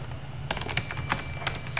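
Quick bursts of clicky keystrokes on a new computer keyboard, close and crisp, with about half a dozen taps over a low background hum and no talking.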